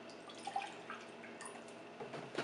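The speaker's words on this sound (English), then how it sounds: "then I need to put an equivalent amount of distilled water." Distilled water trickles and splashes into a small container in a quiet room, a faint, brief pour with a few soft drips.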